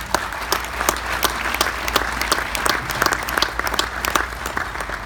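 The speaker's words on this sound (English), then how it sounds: "I think you should give yourselves a round of applause." Gala audience in a banquet hall giving a sustained round of applause, dense crowd clapping at an even level throughout.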